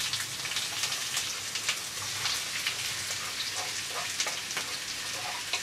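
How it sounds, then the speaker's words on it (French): Onions frying in olive oil give a steady, soft crackling sizzle, an even hiss with scattered tiny pops, heard alone and fairly quiet throughout. "vous mettez vos oignons à griller"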